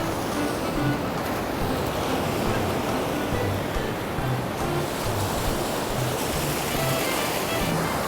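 Big ocean waves break and roar continuously along a beach at night, a dense, steady rush of surf with wind buffeting the microphone.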